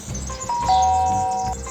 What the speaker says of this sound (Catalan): I va tornar a tocar el timbre.